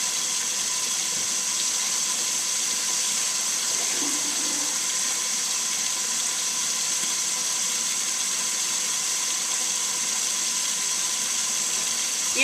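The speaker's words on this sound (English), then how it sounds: "pour the water out of my onion." Water pours steadily off chopped onion into a kitchen sink, a continuous even rush with no talk over it.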